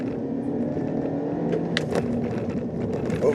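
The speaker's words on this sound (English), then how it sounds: "I'm gonna give it a little throttle mash here" A 2019 Kia Forte with a CVT under full-throttle acceleration, a steady droning engine hum heard from inside the cabin, rising slightly with a few brief clicks and knocks, no talking.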